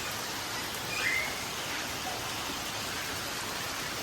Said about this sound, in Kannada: ಇವತ್ತು ಜೋರು ಮಳೆ ಬರ್ತಾ ಇದೆ